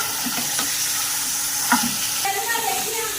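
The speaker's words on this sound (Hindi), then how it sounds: "इसी तरह हमने 2 से 3 मिनट तक इसे फ्राई करना है।" Boneless chicken pieces fry in a pan for a no-oven pizza topping, giving a steady, close sizzle with occasional scraping stirs throughout.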